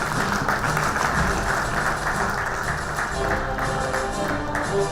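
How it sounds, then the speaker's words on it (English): Audience applause at a live startup broadcast event: dense, steady clapping from a crowd, loud and continuous for the whole stretch with no pauses. "Can I have a round of applause for him?"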